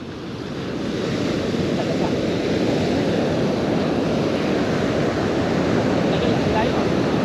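Steady roar of ocean surf washing onto a beach, continuous and loud, with wind buffeting the microphone throughout.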